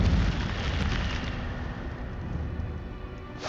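An Incendio fire spell cast in the game Hogwarts Legacy gives a loud, steady, roaring burst of broadband flame noise, heaviest at the very start and holding through the whole clip, with no voices.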